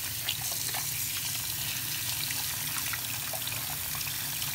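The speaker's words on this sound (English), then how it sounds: "let's put him under some hotter water" Hot water runs steadily from a tap over a toy Mater car, a constant soft splashing wash with no pauses.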